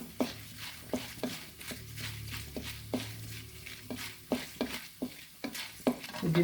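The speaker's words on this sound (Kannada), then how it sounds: "ಈಗ ಎರಡು ಈರುಳ್ಳಿ ಸಣ್ಣ ಹೆಚ್ಚಿದ್ದೀನಲ್ಲ ಅದನ್ನು ಹಾಕ್ತಾಯಿದ್ದೀನಿ" Chopped onions going into a pan of reddened urad dal for avarekalu chitranna, with soft frying sizzle under repeated sharp scrapes and taps of a spoon stirring against the pan, close and steady throughout.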